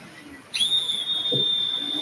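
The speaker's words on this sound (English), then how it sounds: "The ref's whistle, though, is designed for professional refereeing." A referee's whistle for professional refereeing gives a single shrill, sustained blast lasting over a second, loud and close against a faint background hum.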